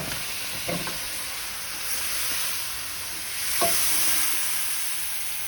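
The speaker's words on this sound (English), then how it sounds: "deglaze the pan with a little" Gumbo pan being deglazed after browning, giving a steady soft hiss and sizzle with a brief scrape near the start and a sharper burst of sizzling partway through, all without talk.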